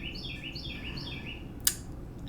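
A small bird chirps in a quick repeated series of high tweets in the background of a quiet indoor room, followed by a single sharp click.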